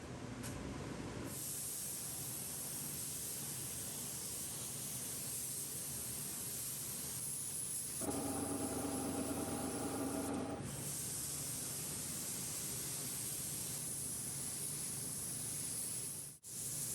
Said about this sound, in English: And getting ready to spray sanding sealer on everything.